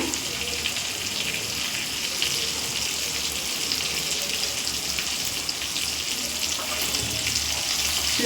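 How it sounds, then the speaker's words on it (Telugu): Pieces of bocha fish frying in oil in a pan give a steady, even crackling hiss that runs close and unbroken throughout, with no voices. "ఇది ఇంకో ఒక టూ మినిట్స్ పాటు ఫ్రై చేసుకొని ఇలానే ఉంచుకుంటాను"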